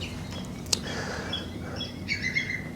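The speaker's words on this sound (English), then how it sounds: "That is the oyster catcher, and he's making this sound because we're quite close to his territory" An oystercatcher calls on the Medway Estuary: a few sharp high chirps and piping notes, clearest near the end, over a low steady background with no voices.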